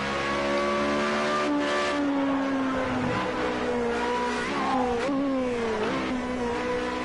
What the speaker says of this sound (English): That engine noise.